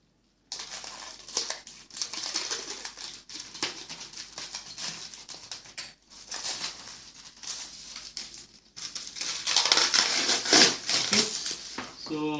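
Parts for an RC plane wing are cut out by hand, with close crinkling, scratching and snipping in irregular bursts, broken by short pauses and growing louder near the end.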